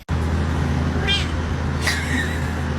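A cat meows twice in short, close cries over steady background noise.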